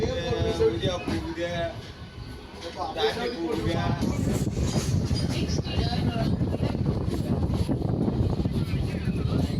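A local EMU electric train running from Tiruttani toward Chennai Central gives a steady, rumbling roar with wind from inside the moving coach, rising after a few seconds, while someone talks over it.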